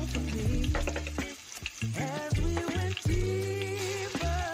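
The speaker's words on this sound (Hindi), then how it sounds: "अब इनको भी अच्छे से भून लूंगी।" Garlic and ginger paste frying in a pan with green chillies for a carrot curry, a close, steady sizzle with intermittent scraping and stirring clatter throughout.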